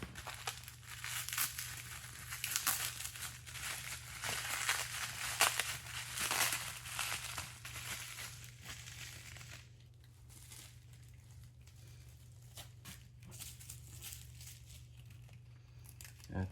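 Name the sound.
unwrapping Scotch tape and packaging from replica skulls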